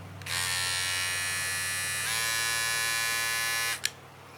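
A cordless hair trimmer buzzes steadily for a few seconds, then stops with a small click.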